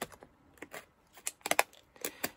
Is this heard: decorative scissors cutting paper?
yes